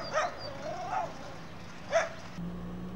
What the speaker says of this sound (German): Hier kläfft auch noch der Köter vorm Bahnhof.